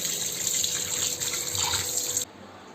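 Tap water runs steadily as chicken is washed under it in a kitchen sink, a close, splashy gush that stops abruptly near the end.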